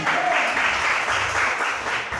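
Congregation applause at a church service in a fishing village, a dense, steady wash of many hands clapping at once, loud and continuous without a break.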